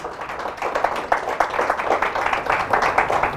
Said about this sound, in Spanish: Fuertes aplausos al Señor Jesús.